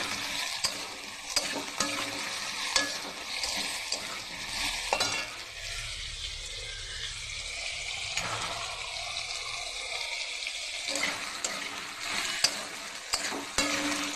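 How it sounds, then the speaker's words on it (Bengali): Shredded cabbage fries with salt in a pan that is partly covered, giving a continuous hissing sizzle with scraping stirs and clanks from a utensil. The sound grows muffled and quieter while the lid is on, then returns louder and brighter. "একটু ঢাকা দিয়ে দিয়ে ভাজবো"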